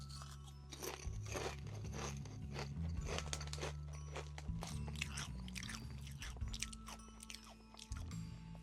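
Quest protein chips being bitten and chewed close up, a dense run of crisp crunches and crackles with a low mouth rumble underneath, no talking.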